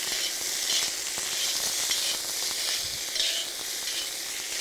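Bell peppers stir-frying in a wok over high heat, a loud continuous sizzle with bursts of crackling and intermittent stirring scrapes, close and alone with no voices.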